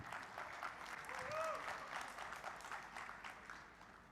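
Audience applause at an AI research symposium, a steady wash of many hands clapping at moderate level from the room, swelling briefly near the middle, with a faint voice and a few tonal sounds audible beneath it.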